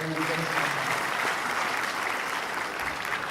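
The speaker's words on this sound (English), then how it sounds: "Give him a big round of applause." Steady, dense applause from a crowd, continuous and fairly loud throughout with no pauses.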